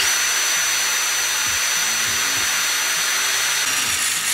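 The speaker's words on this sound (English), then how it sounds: "I'm just gonna get a drill and drill out the middle of it." Power drill boring out a rivet on a truck, a steady high-pitched whine with a rough grinding texture running continuously and close, with no talk over it.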